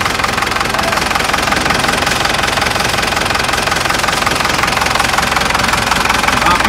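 Massey Ferguson MF4708 82-horsepower farm tractor engine idling, a steady close diesel clatter with a constant low rumble and even knocking texture throughout, no talk.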